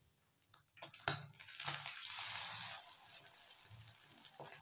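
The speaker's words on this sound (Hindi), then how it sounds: "थोड़ा सा अंडा यहाँ भी है फ्राई हो रहा है" Egg frying in a pan, with a soft, steady sizzle that swells after a few clicks and scrapes near the start, then lingers at a low, even level.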